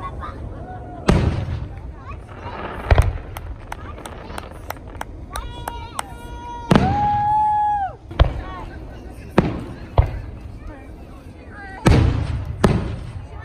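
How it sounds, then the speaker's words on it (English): Independence Day fireworks at a club crack and boom in a series of sharp bursts, some with whistling and crackling tails, while people talk and cheer in between. "Wait, look at the fireworks, man."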